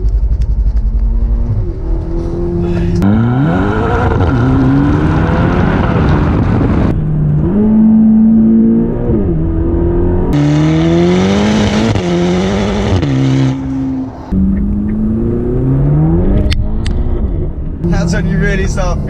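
A Ferrari GTC4Lusso T V8 engine revs hard in sport mode and climbs through gears, loud and close, with rising and falling pitch at each shift and a person talking over it.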